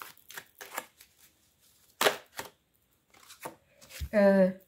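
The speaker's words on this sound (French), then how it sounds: "vous avez vu un petit peu le nombre de cartes que j'ai mélangées" A large deck of cartomancy cards, around a hundred of them, shuffled by hand, with soft scattered riffles and then a loud crisp flutter near the end, while someone speaks quietly between the bursts.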